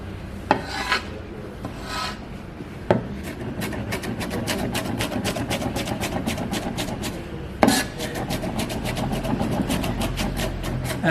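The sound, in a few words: cutting lahmacun ingredients with big knife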